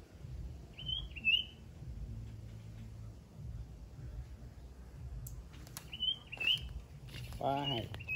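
Wild bird luring with a decoy: repeated short chirping calls ring out in a quiet outdoor setting, with a few sharper bursts and a rapid trill later over low background noise.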